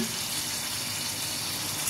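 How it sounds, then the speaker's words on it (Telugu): Water is poured into a pan of masala curry, a steady broadband trickle and splash that runs unbroken and fairly close for the whole moment, with no talk over it. "ఇంకా కొంచెం వాటర్ అయితే వేసుకుంటున్నాను"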